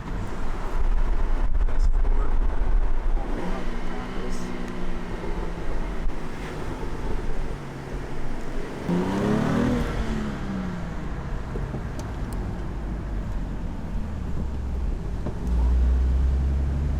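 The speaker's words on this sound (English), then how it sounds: "I can hear that supercharger" A supercharged car engine, heard from inside a manual Mk7.5 Golf R cruising with other cars, drones loud under wind noise and rises in a clear accelerating sweep midway.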